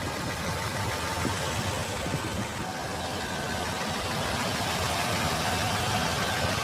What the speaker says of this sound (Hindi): TSI इंजन है ये।